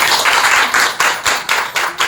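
Audience of women at a company gathering claps together in a loud, brief burst of rhythmic applause with evenly spaced claps, close and without talk.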